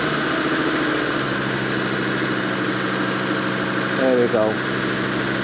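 A Land Rover Defender diesel engine runs steadily while cruising, a constant low droning hum with mechanical whine, with someone briefly talking over it near the end.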